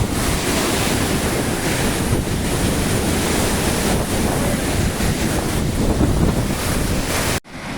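Véu de Noiva waterfall in Brazil roaring as a continuous, loud, dense rush of falling water, with wind buffeting the microphone and no talking.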